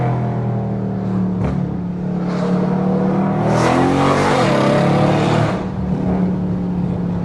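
A loud catless tuned Dodge Scat Pack accelerates hard close by, its exhaust rising in a rough, booming roar, with a few throttle surges and shifts over about seven seconds and no talk.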